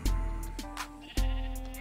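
Minecraft sheep in the Sky Factory 3 modpack give two or three short, close, nasal bleats in quick succession, with no talk over them.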